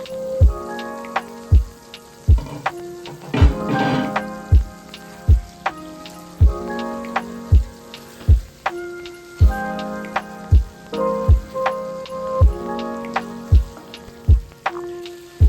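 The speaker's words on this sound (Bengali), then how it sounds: "আবারও সব কিছুকে ভালো করে ভেজে নিচ্ছি।" Meat and spices fry in a pan, giving a steady sizzle under sharp, regular taps and scrapes of a spatula stirring, close up and fairly loud.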